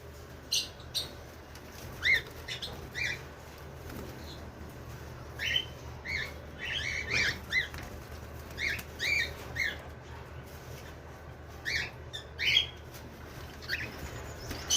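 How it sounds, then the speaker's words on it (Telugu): Wild birds at soft feed in the morning, giving short, bright chirps in repeated bursts with light fluttering between them, fairly close and with no voices. "ఇది చూడండి ఎన్ని బర్డ్స్ వస్తాయి చూడండి సాఫ్ట్ ఫీడ్ కోసం."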